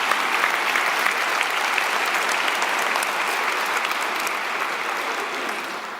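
Church congregation applauding, a dense steady burst of many hands clapping that holds loud and then slowly tapers toward the end.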